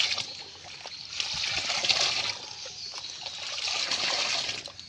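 Water with soaked oil cake is stirred by hand in a bucket, a soft continuous sloshing and trickling that swells and eases, close and fairly quiet.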